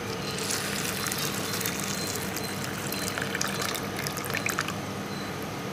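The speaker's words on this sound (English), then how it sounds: "To this, I'm going to add water." Steady pouring water, a continuous splashing trickle onto half a cup of whole wheat in a container, close and fairly loud throughout with no talking.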